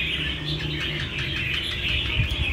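Songbird in a cage sings continuously in a bright, busy warble of chirps and trills, close and fairly loud, with no talk over it.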